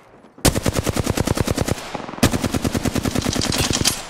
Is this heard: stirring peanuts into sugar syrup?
no